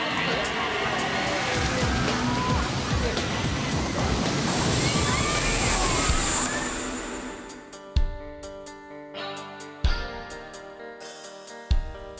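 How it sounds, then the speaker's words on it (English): The Perilous Plunge thrill ride boat ploughs through water to brake, a loud, sustained rushing splash that cuts off after about seven seconds, followed by narration over music with sharp hits. "a little bit of water to help slow us down to this nice stop"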